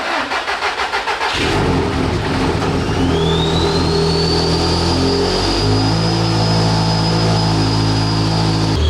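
A car engine on a dyno cranks briefly in rhythmic bursts, then fires and keeps running at a loud, steady idle close up. A rising whine accompanies it and settles into a constant high tone.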